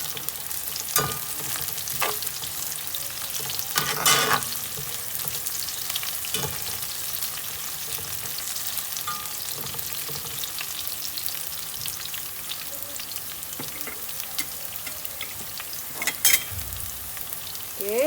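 Spices sauté in a hot pan with a steady soft sizzle and crackle, broken by occasional louder scrapes and stirs of a utensil, close by and without any talk.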